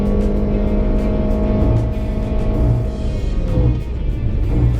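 A petrol Honda CR-V with the 2.4-litre engine accelerates hard, its engine note climbing steadily in pitch and then easing into a higher gear. It is loud and close with no talking.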